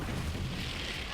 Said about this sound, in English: you saw that explosion went off, I took a little bit of damage